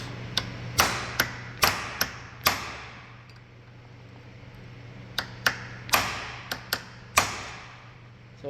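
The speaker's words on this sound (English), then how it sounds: "Hammer and a chisel, and you just wanna go on the back of this and hit it" Sharp metallic hammer strikes on a chisel in irregular bursts, a few rapid blows, a pause, then another cluster of ringing hits close by over a low hum, while freeing a stuck front wheel bearing on a 2005 Honda Civic Coupe.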